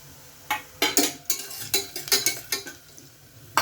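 Black pepper and garlic frying in oil for Marathi yellow khichdi, heard as a string of sharp clinks and scrapes of a utensil against the pan at an uneven rhythm, close and fairly loud, with a soft sizzle beneath and no talking.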